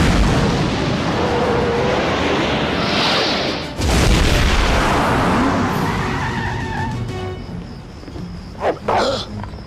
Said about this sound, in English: Activating missile launcher. This'll slow him down.